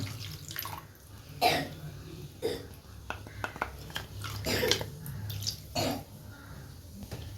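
Water is poured into a Chettinad crab gravy masala, giving a few separate splashing, gurgling bursts up close, with quieter stirring and faint vocal sounds between them.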